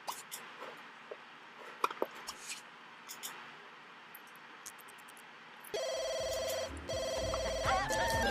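Telephone ringing in The Sims 2, a bright electronic game ring entering partway through after quiet ambient game sounds, repeating in two steady bursts with a brief gap, loud and clear, no talk.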